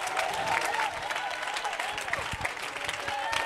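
A church congregation at an evangelical worship service applauds steadily and loudly for several seconds, the clapping dense and continuous with crowd voices mixed in.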